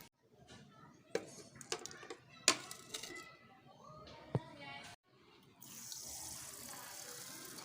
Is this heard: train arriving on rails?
no